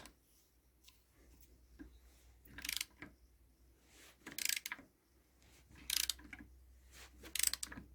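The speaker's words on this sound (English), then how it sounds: "I have to do it with the spanner, so just find a reference point like the number 30." A spanner turns on a brake fitting of a Toyota Hilux Surf, producing faint ratchety clicks and several sharp metallic bursts at intervals over a quiet background.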